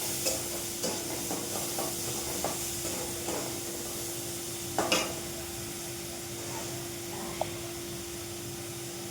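Food fries quietly in a pan, a faint, even sizzle with occasional soft crackles over a low steady hum.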